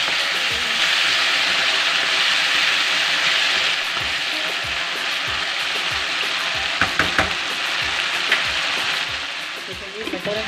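Potatoes, cauliflower and peas frying in a pan, a loud continuous sizzle close by with a few stirring clatters toward the end.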